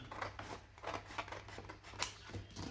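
Scissors snip through paper or card to trim off the excess while making a mini accordion album, a quick run of close, crisp cuts with short pauses between strokes.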